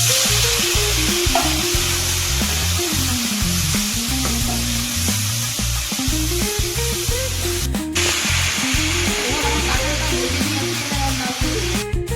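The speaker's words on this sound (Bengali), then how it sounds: "এবার আমি দিয়েছি ইঁচড়টা, এটাও ভেজে নিচ্ছি।" Young jackfruit frying in a pan, a loud close hiss of sizzling oil with steady rhythmic stirring and scraping of the pieces throughout.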